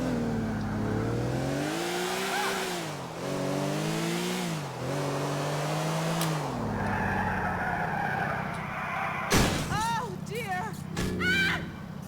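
A Porsche sports car in Grand Theft Auto IV drives with a wavering engine drone that rises and falls through gear changes, then tires screech and skid near the end, with a voice talking over it.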